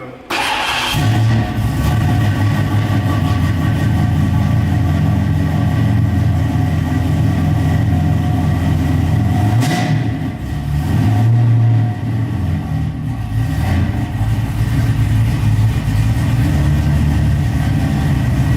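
Classic car engine with a street cam idling loudly and lumpily close by, holding an uneven, loping rhythm with a brief dip midway; faint voices underneath.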